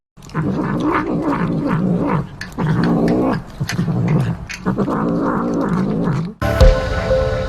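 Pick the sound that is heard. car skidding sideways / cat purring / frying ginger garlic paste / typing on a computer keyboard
cat purring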